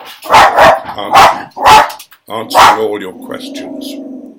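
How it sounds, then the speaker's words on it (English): A dog barks in a quick run of loud, close yaps at the postman, four or five sharp bursts over about three seconds, with someone talking over and after them. "Sorry about the dog. The postman's just been"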